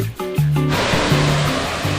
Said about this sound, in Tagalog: Ito pala yung tinatawag nilang Casilak Farm View Waterfalls.